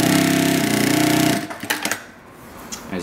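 AtlasUSA AT9312 D4 heavy-duty sewing machine stitching, a loud steady mechanical whir with rapid needle clatter for over a second, then stopping into quieter scattered clicks and handling sounds.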